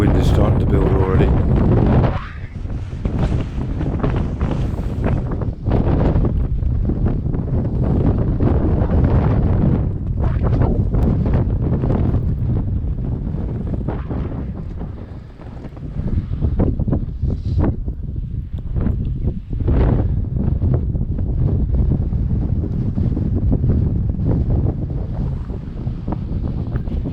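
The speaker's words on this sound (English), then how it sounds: "The wind is starting to build already." Strong coastal wind roars steadily into the microphone near Old Harry Rocks, loud and continuous throughout, with brief lulls, and people talk under the gusts.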